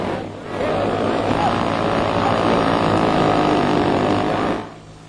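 A radio-controlled model airplane takes off and flies stunts, its small propeller engine making a steady, buzzing drone that rises quickly, holds for several seconds and then cuts off abruptly.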